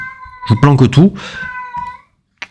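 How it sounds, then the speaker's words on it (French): A cat whines and meows close to the microphone in a drawn-out, wavering cry that rises and falls, then fades out, leaving a brief quiet gap before a single short click. "Il y a mon chat qui pleurniche."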